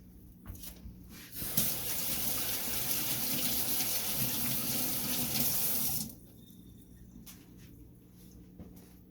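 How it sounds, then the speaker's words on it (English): Water runs from a tap as hands are quickly rinsed under it, a steady splashing flow of about four seconds that starts abruptly and cuts off, with faint handling clatter before and after. "I'm going to give my hands a quick little rinse"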